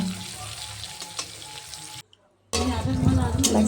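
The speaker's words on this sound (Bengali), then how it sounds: "এরপরে আমি দিয়ে দিচ্ছি টুকরো করে কেটে রাখা টমেটো টমেটোটা হালকা একটু ভেজে নিয়ে" Chopped tomatoes frying in a pan, giving a steady close sizzle with faint stirring scrapes that cuts out briefly, then returns louder and fuller.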